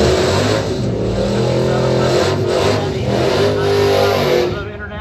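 Chrysler-powered International truck roaring at a drag race, with a loud, sustained engine howl that rises and holds before fading near the end, while an announcer talks over it.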